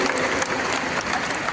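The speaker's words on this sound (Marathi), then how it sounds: "एकदा त्यांच्याकरता जोरदार टाळ्या वाजवा तुमच्या गोव्यामध्ये." A concert audience in Goa breaks into a dense, loud burst of applause, many hands clapping at once in a steady wash with no pause.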